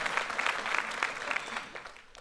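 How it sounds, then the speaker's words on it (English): An audience at an entrepreneurs' book release party claps for a woman after her question, a dense, steady burst of applause from a crowd that fades slightly toward the end. "Round of applause for Amelia."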